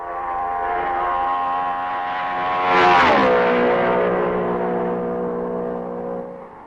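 Racing cars at the 1955 Belgian Grand Prix roar past one after another, engine notes rising as they approach and dropping sharply in pitch as they pass, loud and close before fading away.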